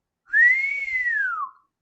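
A person whistles one clear sustained mouth-whistled note with a slight rise and fall in pitch, close and alone, lasting just over a second.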